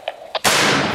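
A single loud, close gunshot during small unit tactics training, preceded by a couple of faint short clicks, with the blast's broadband crack and echo filling the rest of the second.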